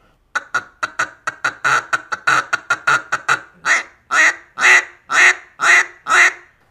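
A duck call blown in a long descending run of raspy, gravelly hen quacks, quick at first then slowing into louder, drawn-out notes.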